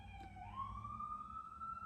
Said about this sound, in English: That was a ambulance.